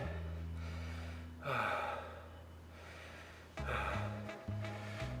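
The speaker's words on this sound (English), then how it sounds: "I'm breathing hard" Heavy, audible breathing after exercise reps: repeated gasping inhales and exhales in uneven bursts, close to the listener, with a steady low hum underneath.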